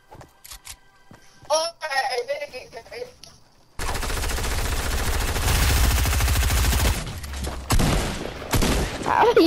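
Dense, loud automatic gunfire in the Fortnite video game erupts after a few seconds of voices and clicks and keeps going as a sustained barrage, with a player talking before and over it.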